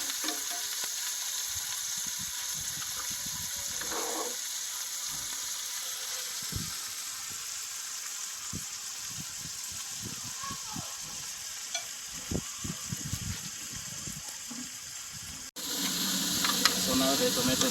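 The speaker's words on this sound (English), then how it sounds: "we're going to cook this down until the tomatoes break down." Chopped tomatoes sizzle and cook down in a hot pan, with a steady frying hiss throughout and occasional scrapes and stirring clunks near the end. A faint voice may occasionally murmur underneath.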